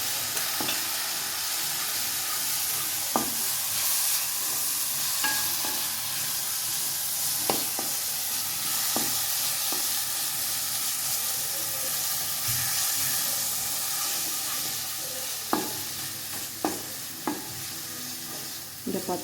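Spice powders, including chilli, garam masala, turmeric and coriander, sauté in hot oil with a constant loud sizzle and hiss, broken every few seconds by sharp scrapes of stirring.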